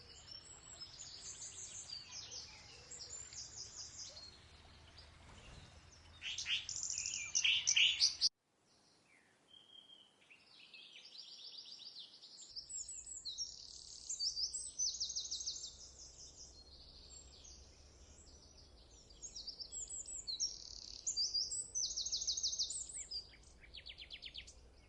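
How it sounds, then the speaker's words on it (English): Birds singing among trees in spring, with high chirps and warbled phrases from several birds repeating at a moderate distance over a soft outdoor hush, a brief louder flurry before a short gap, and no talk. "the birds singing"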